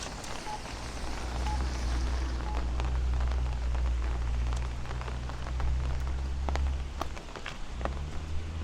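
Steady rain falling in Bensonhurst, Brooklyn, as a severe thunderstorm winds down, a continuous close hiss of drops on pavement with low rumbling wind noise and a few sharper splashes.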